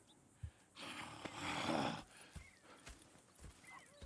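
Horse hooves clop in a loose rhythm in the video game Red Dead Redemption 2, with a long, loud whinny in the middle and a few more hoof thuds afterward.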